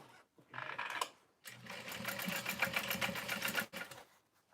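Sewing machine stitching the lining of a satchel bag, a short burst followed by a longer steady run of rapid, close mechanical stitching that stops abruptly.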